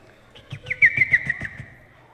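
A small bird chirps a quick series of short, bright notes ending in a thin sustained trill, close and fairly loud.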